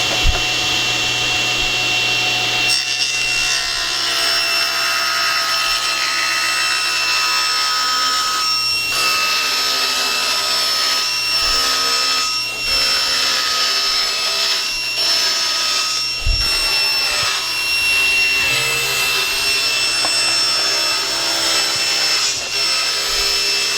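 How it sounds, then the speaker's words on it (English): A power saw cuts through rustic hardwood timber in a loud, continuous whine with grinding rasp, close by, briefly dipping and resuming as the blade works through the cuts, with no talking. "Put my hearing protection on and start the saw."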